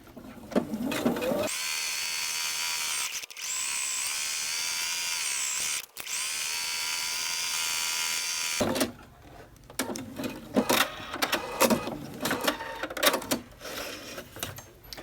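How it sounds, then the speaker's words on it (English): A sewing machine top stitches around a belt bag, with a loud steady high whir in long runs, brief pauses and then shorter choppy bursts mixed with handling clatter. "I am going to simply top stitch all the way around my bag"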